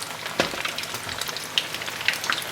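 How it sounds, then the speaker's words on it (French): Breaded camembert deep frying in oil, a steady crackling bubble with scattered sharp pops, close and moderately loud, no talking. "on fait bien frire, on attend que ça dore"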